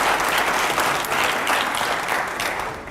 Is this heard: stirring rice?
no